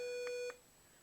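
A Fortuna-M metal detector with a 32x28 coil gives a steady electronic beep from phone interference, a sustained tone with two short blips in it, then cuts off, leaving quiet background.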